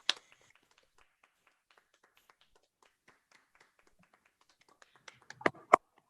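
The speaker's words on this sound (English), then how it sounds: "give him a round of applause so he can hear each one of us clapping and applauding" Online participants clap over open microphones: sparse, scattered taps and claps at first, then a short burst of louder, uneven claps near the end.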